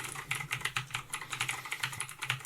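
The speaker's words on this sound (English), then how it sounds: "I'm typing letters, but it's not doing anything" Steady, rapid typing on a computer keyboard, with close, evenly paced clicks that continue through the whole stretch and no speech.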